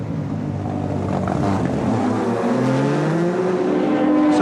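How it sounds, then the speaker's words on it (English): Engine of a Porsche Le Mans sports prototype race car at the 1998 Le Mans event, a loud steady roar with rising pitch as it accelerates, continuous and fairly close throughout. "Michele Alboreto takes the Porsche out"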